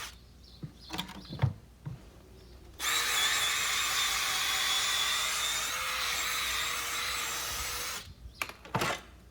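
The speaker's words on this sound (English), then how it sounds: "You can use the buffer to continue putting a little bevel at your toe" Electric buffer beveling the toe of a horse's hoof wall, a high, whining grind that starts abruptly and runs steadily for about five seconds, with quieter handling noises before and after.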